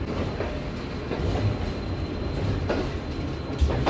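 Shalimar Express passenger train easing through a sharp curve as it clears the platform at Lahore Junction, with a steady rumbling roll of wheels and carriages and faint clacks, close and continuous.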